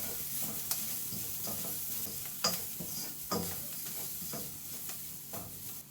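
Onions with added seasoning fry in a pan with a steady, soft sizzle, broken by a few sharp scrapes and clinks of stirring; the frying stays moderately quiet and continuous throughout, with no voices.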